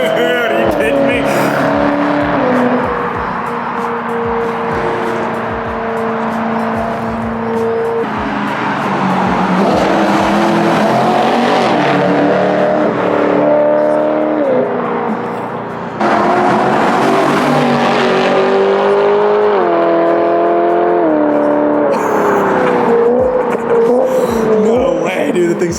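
A BMW E90 M3 engine revs hard and accelerates, the loud rising and falling engine note filling the clip with gear-change dips, while people talk over it.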